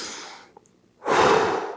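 A deep breath during an upper-body exercise session: a breathy exhale trails off into a short pause, then a strong, close inhale swells loudly and holds, with no talking.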